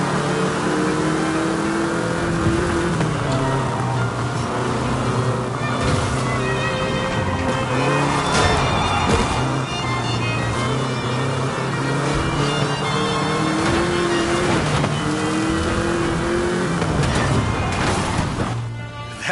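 Volkswagen Beetle (Vocho) driving in the video game Forza Horizon 5, a loud continuous engine drone with shifting pitch and gear changes throughout, layered with rushing game ambience and no talk.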